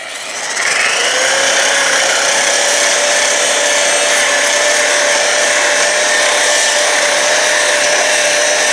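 A Vevor surface conditioning tool, running at speed setting three, whines loudly and steadily with a high motor tone that spins up at the start and holds constant throughout, with no talk.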